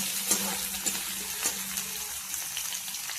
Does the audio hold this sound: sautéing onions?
yes